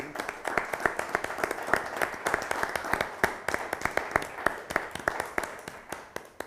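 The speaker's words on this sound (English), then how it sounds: "Let's give a round of applause." An audience at an inaugural session applauds, a steady patter of many hands clapping at a moderate distance with a few sharper claps standing out, continuing evenly throughout.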